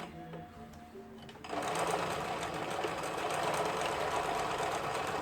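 Lion L372 sewing machine tested after repair, running a zigzag stitch in a steady, rapid mechanical rattle that starts after a brief quieter moment and continues close by until the end.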